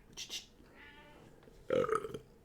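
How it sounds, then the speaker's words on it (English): Fluffy domestic cat meows twice indoors, a soft short call followed by a louder, longer one, close by. "Are you here to meow at me?"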